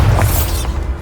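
A Bombarda blasting spell explodes in Hogwarts Legacy, a loud, deep boom that rumbles continuously through the whole second with no voices over it.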